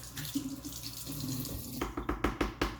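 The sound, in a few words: rinsing with running tap water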